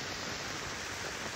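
Steady rain falls without pause during an overnight stay in a rooftop tent at a tree farm in Bailen, a dense, even hiss with no voices over it.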